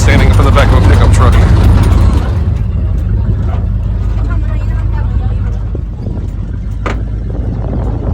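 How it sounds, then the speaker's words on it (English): A pickup truck shuttle to a green sand beach on Hawaii's Big Island rumbles loudly and steadily with engine and road noise. Wind buffets the microphone and mechanical rattles come through, fading slightly toward the end. "Basically standing up in the back of a pickup truck."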